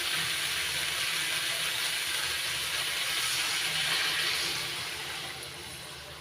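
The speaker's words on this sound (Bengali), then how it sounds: "এবার দিয়ে দেবো পরিমাণ মতো জল।" Water poured into a hot pan of spiced fried ridge gourd and potatoes sets off a loud, steady, steamy hiss close by that fades toward the end, with no voices.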